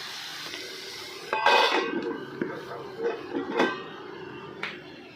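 A lid set onto a cooking pot holding yogurt-based curry makes a short metallic clatter, then a few lighter clinks and rattles as it settles, close and moderately loud, with no speech.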